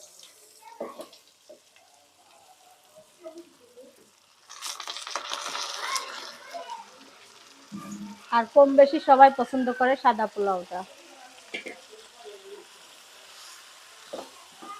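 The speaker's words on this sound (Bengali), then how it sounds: "পেঁয়াজের বেরেস্তা করা হয়ে গেছে এখন চালগুলা দিয়ে ভেজে নিচ্ছি" Rice is fried with browned fried onions in a little oil in a wok for white pulao, sizzling and scraping under a stirring spoon while someone talks between bursts.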